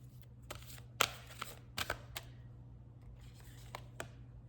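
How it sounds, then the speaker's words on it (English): A tarot deck is shuffled by hand in a quiet room, a scattered series of soft riffling clicks and card snaps over a low steady hum. "So I'll give it a shuffle and pull out a card."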